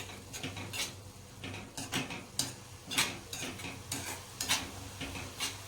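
Green garlic sautés in a pan, with a soft steady sizzle under repeated scraping and clinking of a spoon against the metal in an uneven rhythm of strokes.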